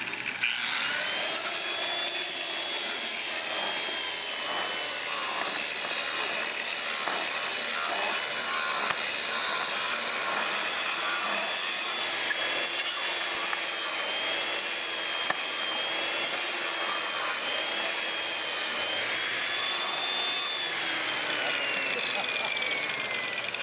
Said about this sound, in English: I'm using a Zec wheel with a 7-inch grinder.